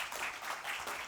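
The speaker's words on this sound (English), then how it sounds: "One big applause, please." Brief burst of audience applause at a conference fireside chat as a guest speaker is welcomed onstage, a short, even wash of many clapping hands at moderate loudness.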